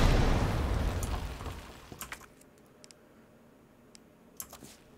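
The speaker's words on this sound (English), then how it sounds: "Oh my god, that's a grenade." A grenade goes off in Resident Evil 2, a loud blast at the start whose rumble fades over a couple of seconds, followed by faint scattered clicks and small pops.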